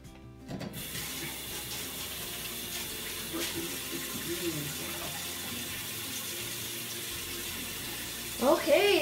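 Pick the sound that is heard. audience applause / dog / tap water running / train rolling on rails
tap water running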